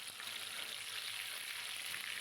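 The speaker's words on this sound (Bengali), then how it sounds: "এবার মাছগুলো দিয়ে দিলাম তেলে" Steady, loud sizzling of pomfret fish frying in hot oil in a wok, a continuous crackling hiss with no voices.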